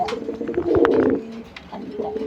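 Pigeons kept for sale give a brief, low, throaty coo, close by and fairly loud, with faint background noise around it.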